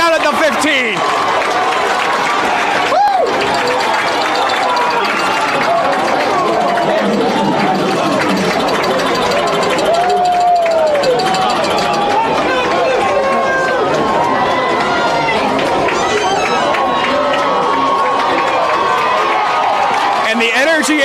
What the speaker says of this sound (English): The crowd getting hype, the sideline trying to get them to go nuts.